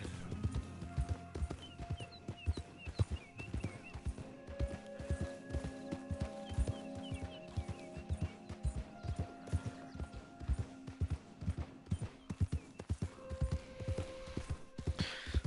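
Steady, rhythmic clip-clop of horse hooves while riding in Red Dead Redemption 2 Online, faint and continuous, with soft ambient tones in the background.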